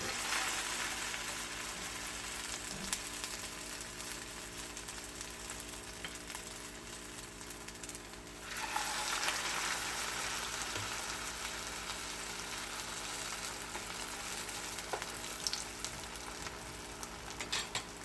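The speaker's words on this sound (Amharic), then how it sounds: "አሁን ቀስ አድርጌ ያው መጥበሻ አግያለሁ ዘይት አድርጌ ወደሱ አደርጋለሁ ማለት ነው።" Oil sizzles steadily in a pan as a potato veggie patty fries, a constant crackling hiss that swells louder partway through, no voices.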